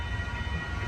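Amtrak Coast Starlight train #11, hauled by P42 locomotives, rolls southbound past 98th Avenue in Oakland, California, a loud steady close rumble throughout the brief moment.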